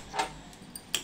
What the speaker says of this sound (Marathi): गॅस लावते ना आता.